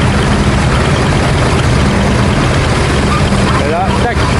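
A tractor engine idles at an agricultural fair while a plough is hitched to another tractor, giving a steady, noisy rumble that stays level throughout, with a few brief chirps near the end.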